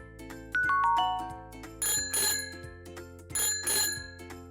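A bicycle bell rings in two quick pairs of bright metallic dings, loud and close, over a light musical jingle in the background.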